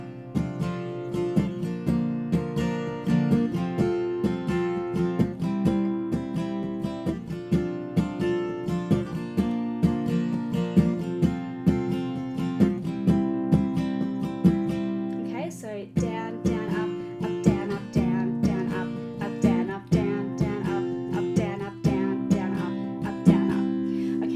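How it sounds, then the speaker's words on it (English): Steady acoustic guitar strumming in a down, down, up, up, down, up pattern, chords ringing continuously with crisp rhythmic strokes throughout, no voices. "you can alternatively use down, down, up, up, down, up, which sounds like this"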